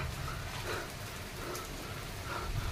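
Rain beginning to fall outdoors makes a soft, steady hiss and patter throughout, fairly faint and even, with no speech.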